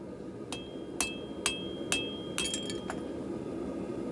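Hot steel is hammered while a small knife is forged, giving sharp metallic clinks with a ringing tone, struck at a steady rhythm about every half second and quickening near the end over a low background hum.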